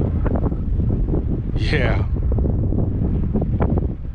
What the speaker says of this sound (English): It's windy as heck.